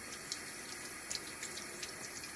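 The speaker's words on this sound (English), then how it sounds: "I wonder if it needs a little bit more water." Water trickling into shaving soap lather during a shave, a close, steady hiss of running water with faint drips and splashes, alone.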